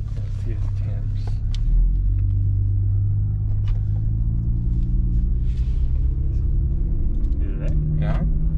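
A car engine runs on a test drive after an aluminum radiator install on a 2004-2008 fourth-generation vehicle, giving a steady, loud low rumble and drone throughout with faint lighter noises above it.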